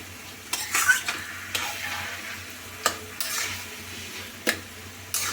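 Food frying in a pan while being stirred, giving a soft steady sizzle with a few sharp scrapes and clinks of the utensil against the pan, close and fairly quiet, with no talk.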